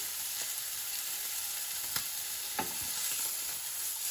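A fillet steak sizzles in a frying pan on a gas stove, a continuous hissing crackle at steady moderate level with a few small pops.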